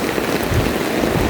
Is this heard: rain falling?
yes